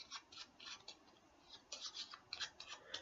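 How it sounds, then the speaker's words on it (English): A deck of playing cards is shuffled repeatedly during a close-up magic trick, with quick papery riffling bursts in a steady run, close and fairly quiet, with no talking. "now I'm just going to give the cards a shuffle, and shuffle the cards some more"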